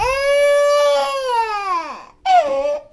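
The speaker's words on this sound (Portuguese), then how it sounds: "sons desagradáveis, como um choro de bebê" A baby cries loudly and close, one long wailing cry that falls away, a brief catch of breath, then a second shorter wail, with no other sound.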